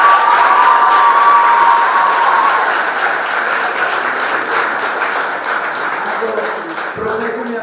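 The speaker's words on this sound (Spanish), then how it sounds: "Aplausos para mais." Audience applause at a school year opening ceremony, a loud, dense crowd clapping that continues evenly, then eases slightly as a voice comes in near the end.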